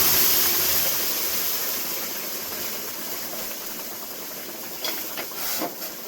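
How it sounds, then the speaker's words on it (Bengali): Boiled arhar dal poured into a hot kadai gives a loud, steady hiss and sizzle that gradually eases, with a few brief bursts of bubbling near the end. "ঢেলে নিচ্ছি কড়াইতে"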